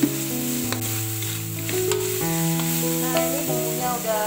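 Spice paste sizzles steadily in hot oil in a pan, a continuous close frying hiss with background music playing over it throughout.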